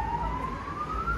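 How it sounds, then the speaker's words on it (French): A warning siren wails steadily with a slowly rising tone around 9 pm in northern Morocco, sounding from a distance over faint background noise. "Il y a les sirènes qui nous préviennent de rentrer"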